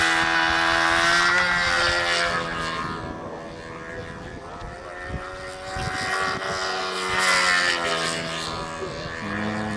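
A small buzzing model airplane engine drones steadily at a distance during a 2007 Nationals fly-off, its pitch rising and falling as it moves through the air, with faint background noise.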